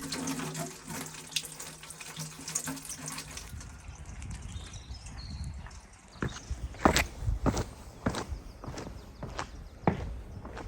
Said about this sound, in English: I came across a fountain, so I filled up my water bottles.